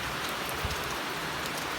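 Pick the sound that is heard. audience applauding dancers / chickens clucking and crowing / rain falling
rain falling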